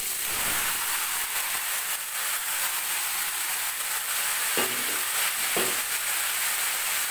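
Mustard seeds spluttering in hot mustard oil for a sweet-sour chalta pickle, a loud continuous crackling sizzle with a couple of brief stirring knocks near the end.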